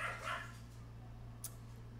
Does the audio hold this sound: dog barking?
yes